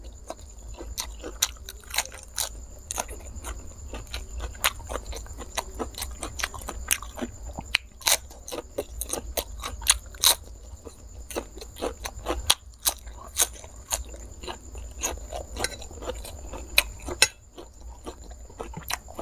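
Someone eats spicy Mama instant noodles heaped with vegetables, with close, repeated crunchy bites and wet chewing at an uneven rhythm and no talk.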